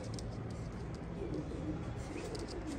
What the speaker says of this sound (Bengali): অনেক চটপট জোড়া, অনেক চটপটে কবুতর